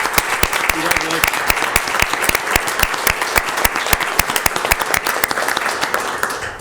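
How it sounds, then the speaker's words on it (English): A meeting audience gives a round of applause, dense steady clapping from many hands that carries evenly from start to finish at moderate loudness, with faint speech underneath. "if you join me in a round of applause"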